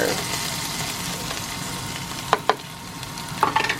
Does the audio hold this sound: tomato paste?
yes